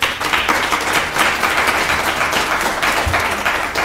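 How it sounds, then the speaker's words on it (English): Dense applause from an audience at a university language policy launch, steady and fairly loud throughout with individual claps blurring into a continuous wash. "That really deserves a big round of applause once again."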